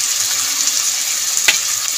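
Ground cumin, coriander, green chili and ginger paste with chili powder fries in a pan for a Bengali rohu fish curry, giving a steady, close hiss of sizzling oil with one brief scrape partway through.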